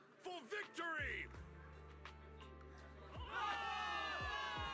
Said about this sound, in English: Cheers rise up from the gathered soldiers.